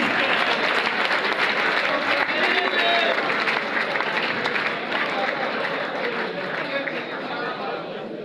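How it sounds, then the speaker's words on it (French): A political rally crowd on its feet applauding and cheering, loud sustained clapping with crowd voices that slowly eases off toward the end. "lèvons-nous pour nous acclamer, nous tous"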